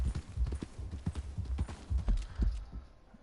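A horse's hooves in Red Dead Redemption 2, a quick clip-clop gait of close, muffled thuds in an uneven rhythm that eases off toward the end, with no talk over it.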